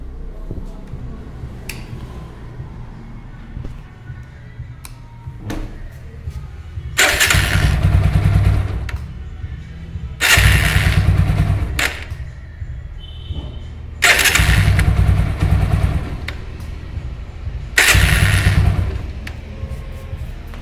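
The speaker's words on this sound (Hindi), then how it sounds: "जब हम सेल्फ मारते हैं तो इसके अंदर खड़क की आवाज़ आती है" An Apache 200 4V motorcycle is repeatedly started on the self-starter, four loud cranking bursts over a low rough idle, with the starter engaging harshly and an internal knocking from the engine.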